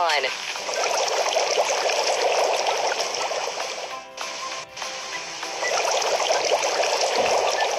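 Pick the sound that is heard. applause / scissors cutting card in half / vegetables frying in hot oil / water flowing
water flowing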